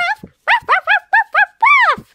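A cartoon dog character barks and yips in a rapid series of about seven sharp, bright, voiced calls, close and loud; the barks are a voice acting out a dog.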